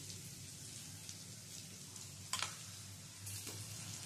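Chopped tomato frying in a pan for a fish ball curry, a steady soft sizzle with a couple of brief clattering stirs, close but low in level.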